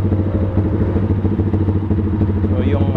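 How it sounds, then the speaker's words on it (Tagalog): A warm GPR250 motorcycle engine idles steadily nearby, a low throbbing putter with a faint whine rising briefly near the end. "ito yung idle niya pag uminit na yung makina"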